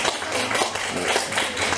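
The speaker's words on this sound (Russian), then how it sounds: "Аплодисментами." Audience applause at a live rock concert, a dense steady wash of many hands clapping with crowd noise, loud and continuous throughout.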